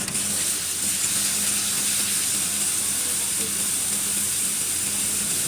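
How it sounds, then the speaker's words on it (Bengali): Garlic paste frying in hot oil with softened onions, a steady, even sizzle and hiss close by, running unbroken from start to finish with no talking. "1-2 মিনিট আমি একটু রসুনটা ভেজে নিচ্ছি যাতে কাঁচা গন্ধটা চলে যায়।"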